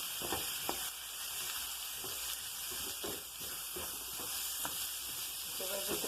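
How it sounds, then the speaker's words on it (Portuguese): Onion, meat and freshly added chopped tomato sizzle and fry in a pan, a soft continuous hiss broken by scraping stirs at an uneven rhythm, close and fairly quiet with no talking. "Agora eu vou colocar o tomate picado e vou mexer também"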